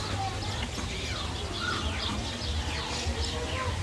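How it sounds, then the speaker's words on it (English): Parrots call in a steady outdoor din of chirps and squawks, with people talking faintly underneath throughout. "Mira, mira los loros de acá."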